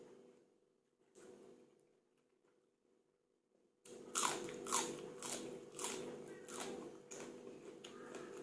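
Crispy Thai pork with crunchy skin, served with khanom jeen noodle salad, is bitten and chewed up close. A few seconds of near silence give way to a steady run of loud, crackling crunches.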